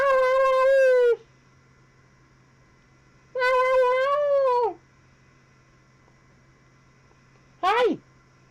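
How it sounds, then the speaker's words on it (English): A cat meows loudly three times in an echoing hallway, two long drawn-out calls followed by a shorter sharp one, with quiet pauses and a low hum between them. "You like hearing yourself meow in the hallway? Good echo, huh?"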